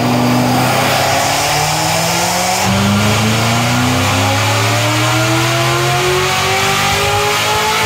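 A Chevrolet C7 Corvette V8 runs close and loud, its exhaust note rising in pitch as it revs through long pulls, steady with no talk over it.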